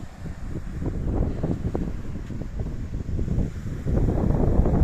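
Gusty wind rumbles against the microphone in uneven low bursts, getting steadier and louder toward the end.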